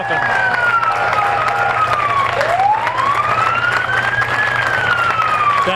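Crowd applause along a parade route at the Battle of Plattsburgh parade, steady clapping and cheering throughout, with a loud emergency vehicle siren rising and falling close by over it.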